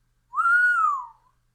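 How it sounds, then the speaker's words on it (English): A person gives a single whistle, a smooth tone that rises then falls over about a second, close and alone. "Slag let out a whistle"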